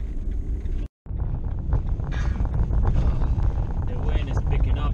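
Strong gusting wind buffets a driving vehicle on an open road, a loud continuous rushing roar with a brief dropout early on and some faint rattling throughout.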